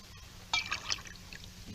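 Water pours briefly into a glass, a short splashing trickle lasting about half a second, close and fairly soft against a quiet background.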